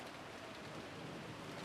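Soft, steady rain patters as ambience in the Umineko visual novel, a faint, even wash of sound lasting under two seconds with no speech.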